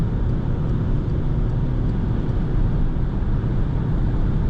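A 2011 VW Passat 2.0 TDI diesel accelerating hard in fourth gear, with a steady, loud, broadband engine and road roar that stays constant throughout and no speech.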